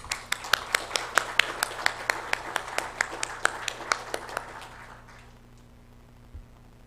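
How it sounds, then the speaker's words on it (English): An audience at a youth dialogue summit in Belize applauds to welcome a speaker, with sparse, distinct claps in a steady rhythm that thin out and fade after about five seconds. "Let's give him a warm welcome of applause"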